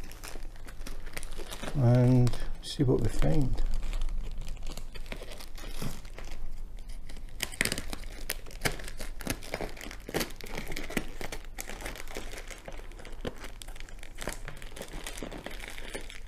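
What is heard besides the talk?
scissors cutting open a package, plastic wrapping torn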